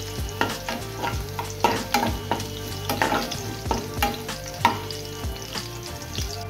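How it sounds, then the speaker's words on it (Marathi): Garlic fries in a pan for Goan sardine ambot tik: a close sizzle under repeated clattering strokes of a spatula stirring and scraping against the pan, with no talking. "लसूण इथं भाजून घेतो।"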